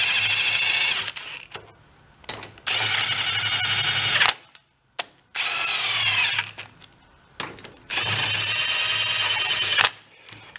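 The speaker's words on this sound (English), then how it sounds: "Let's just run them in with the gun." A power gun drives bolts into a Kohler engine in four bursts of high, whirring motor whine, each lasting about one to two seconds, separated by short silences, close and loud.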